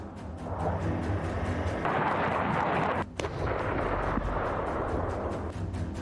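Bombs and artillery shells exploding in the war in Ukraine make a dense, continuous roar of rumbling blasts. A short dip in the middle is followed by a sharp crack, and no voices are heard.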